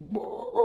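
A voice imitates a deep, gruff dog bark, one short drawn-out woof, close and fairly loud.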